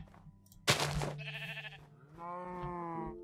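A Minecraft sheep bleats a couple of times, nasal and wavering, with a sharp thump just before and soft background tones.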